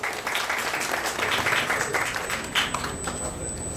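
An audience at a Guinean mining industry awards ceremony applauds, with moderately loud, uneven clapping that swells and dips, a few sharper claps near the end and a faint steady high tone beneath.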